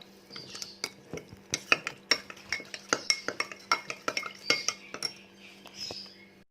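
A spoon stirs cornstarch dissolved in a glass of water, clinking rapidly and repeatedly against the glass in an irregular rhythm. The sound is close and fairly quiet over a faint steady hum.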